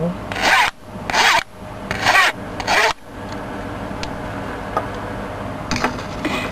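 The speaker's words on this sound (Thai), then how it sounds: "เราก็จะได้เนื้อนะคะฟักทองเนียน ๆขูดเอาแต่เนื้อนะคะ ที่ติดอยู่" Pumpkin flesh being scraped from the rind in four rhythmic, rasping strokes, close and fairly loud, then quieter scraping and light taps. The pumpkin is being prepared for a layered Thai dessert.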